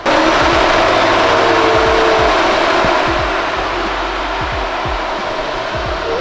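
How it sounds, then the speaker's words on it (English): Electric radiator fans on a freshly engine-swapped car spinning up on their first test, a loud steady whooshing roar of moving air with a low background hum, close by and continuous throughout. "E-fans, test, first try, baby."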